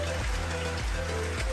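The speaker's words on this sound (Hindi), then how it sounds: "और अभी जो है बारिश हो रही है बहुत ज़्यादा" Heavy rain falling outside a car on a mountain road trip, a steady, dense hiss with a low rumble underneath and no clear individual drops.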